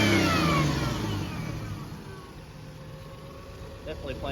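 A Toyota 4Runner rock crawler on 40-inch tires revs its engine nearby, then settles back to a low steady idle, with someone speaking over it.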